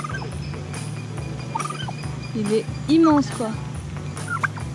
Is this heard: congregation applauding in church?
no